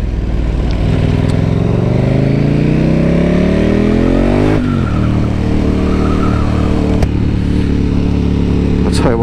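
A KTM 1290 Superduke R motorcycle engine revs up loud and close, rising steadily in pitch for several seconds before the revs cut, then it settles into a rough, throbbing idle with a voice running under the engine noise.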